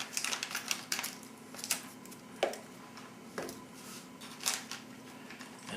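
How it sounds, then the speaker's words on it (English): Swiss Army knife scissors cut open an MRE pouch in a few quiet, sharp snips and crinkles, spaced irregularly against a faint steady hum. "I'll get out the trusty Swiss Army knife scissors"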